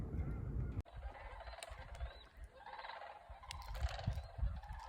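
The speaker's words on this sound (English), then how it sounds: "what you're listening to are hundreds of sandhill cranes" Hundreds of sandhill cranes call at Bosque del Apache Wildlife Refuge, a dense overlapping chorus of rattling, bugling cries, some near and some distant, over a low rumble of wind and background noise.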